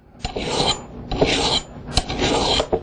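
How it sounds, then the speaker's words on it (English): An axe edge is stroked along a coarse 220-grit diamond whetstone, making three close, rasping scrapes at an even pace with no talk. "Just lay the axe overhanging on the edge of a table, stroke into the cutting edge"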